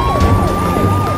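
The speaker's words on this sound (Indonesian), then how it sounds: "yang ini mobil pemadam kebakaran" Toy fire engine siren wailing in a fast, repeating up-and-down sweep, close and steady over a brief moment.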